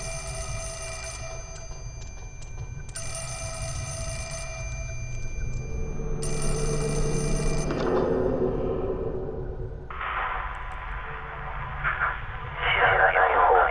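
Telephone bell rings in repeated bursts inside the horror video game Fatal Frame 4, steady electronic trills separated by short gaps over a low ambient drone, followed by a brighter noisy passage.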